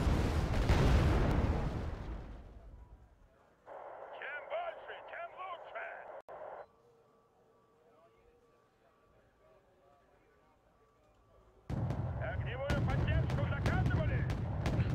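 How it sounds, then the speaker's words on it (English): Booming artillery blasts and gunfire in the battlefield strategy game Wargame: AirLand Battle, a heavy explosion at the start and dense crackling bursts returning near the end, with quieter game sounds and some talk in between. "There's also the artillery."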